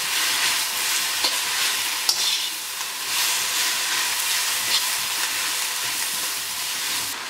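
Cabbage and mushrooms fry in a pan with hot pepper while being stirred, a dense steady sizzle and hiss close up, with occasional scraping of the spoon and no talking.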